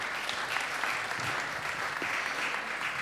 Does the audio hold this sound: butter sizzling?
no